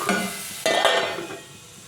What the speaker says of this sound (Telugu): ఉల్లిగడ్డ ఫ్రై అయిపోయింది.